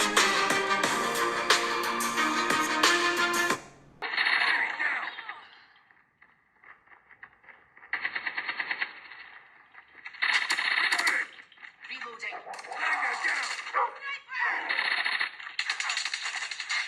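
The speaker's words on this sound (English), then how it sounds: "we do have stereo speakers, and honestly, those speakers sounded really, really good, but take a quick listen" Mobile game audio plays through the stereo Dolby Atmos speakers of a Lenovo tablet, with a dense burst of music followed by bursts of rapid gunfire, clinks and effects separated by quiet gaps.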